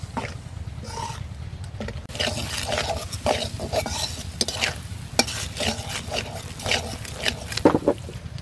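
Turmeric, chili powder and green chilies are stirred and fried in a pan, with rhythmic spatula scraping and a persistent sizzling hiss over a low rumble. There are frequent sharp pops and no speech.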